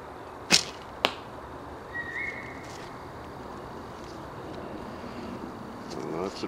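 A traditional bow sends an arrow into a target 23 yards away outdoors at sundown: two sharp, clean cracks half a second apart, the release and then the impact, over a quiet background with faint distant aircraft hum.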